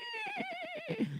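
A human voice imitates a horse's whinny, one high wavering neigh about a second long that drops in pitch at the end, close and clear.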